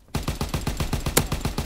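Rapid automatic gunfire in a video game, a steady burst of about a dozen evenly spaced loud shots with no talk over it.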